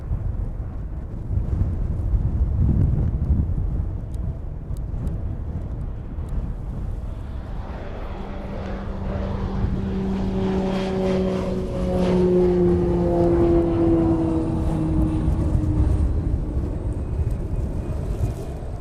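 A Beechcraft King Air turboprop departs overhead at East Midlands airport, its engine drone swelling from a distant rumble into a loud whining pass with a falling pitch, over steady wind noise.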